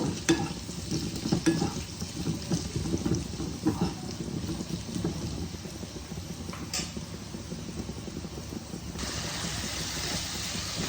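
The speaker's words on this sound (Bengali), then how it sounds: "এদিকে আমার আলুটাও ফ্রাই হচ্ছে। আলুটাকে আমি লাল লাল করে ভেজে নেব।" Potatoes frying in oil in a pan for a Bengali katla fish curry, a steady low sizzle with occasional soft stirring clicks, close and moderately quiet with no talk.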